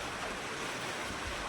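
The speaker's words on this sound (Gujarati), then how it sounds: "પવન એવો ચડી ગયો" Strong wind rising before the first rain of the season, a steady broadband rush like surf with low buffeting rumble throughout, brief and fairly faint, with no voices.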